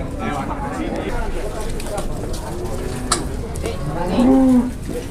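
Cattle at a crowded cow contest low in a drawn-out moo near the end, heard over constant crowd chatter and talk close by.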